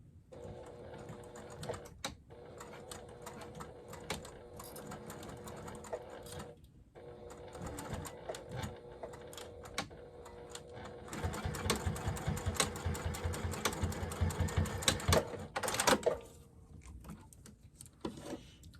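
A sewing machine runs in steady stretches of rapid mechanical stitching, briefly pausing a few times, with light clicks and rattles nearby.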